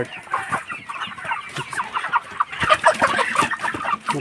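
Chickens in a cage farm cluck and squawk continuously, a dense chorus of many birds close by, with a louder burst of calls toward the end.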